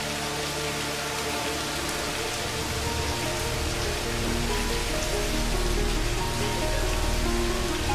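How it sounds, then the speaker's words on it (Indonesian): Steady rain pours down outdoors in a continuous dense hiss of drops hitting surfaces, growing slightly heavier over the stretch, with a low rumble underneath and no talking. "Apalagi hujan seperti ini"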